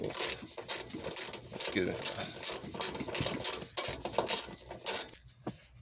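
A socket wrench ratchets off bolts on the hybrid power pack of a 2007 Toyota Camry hybrid, rapid close clicking in repeated bursts, with a person briefly speaking over it.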